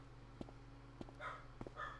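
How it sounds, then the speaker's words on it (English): A dog barks in a Broken Sword adventure game, three short barks spaced evenly apart, fairly faint over a steady low background hum. "the dog's barking"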